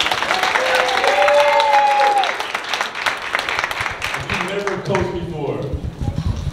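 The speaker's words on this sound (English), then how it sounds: "One more round of applause for coaches." Audience clapping and cheering for volunteer youth basketball coaches at an i9 Basketball event, a loud sustained burst of applause that thins out toward the end while voices and crowd noise continue.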